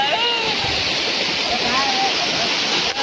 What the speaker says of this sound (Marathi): हा बघा महेंद्र आंघोळ करतोय